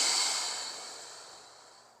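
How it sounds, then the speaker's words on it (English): A slow, deep inhalation during a lower-back stretch, a soft airy hiss heard close that gradually fades over about two seconds. "Focusing that breath going into the hip."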